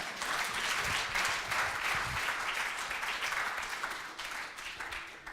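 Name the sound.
audience applause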